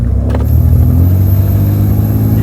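A VL Commodore with an RB30 engine fitted with 1000cc injectors, accelerating as a steady, loud, close engine drone with strong low rumble and a faint high whine, continuous throughout and with no talk.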